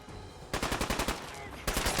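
Rapid automatic gunfire from a video game, loud bursts of shots starting after a short quiet lead-in and resuming near the end.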